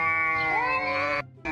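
A rough, fierce-looking street cat meows in a long, pitch-gliding call. The sound is close and fairly loud, breaks off briefly, then starts again.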